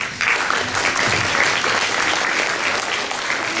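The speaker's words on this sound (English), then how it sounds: "We'd like to give you a round of applause" A hall audience at a Chinmaya Mission centenary event applauds the parents of Shloka class students, with a sustained, even wash of many hands clapping at close, full volume.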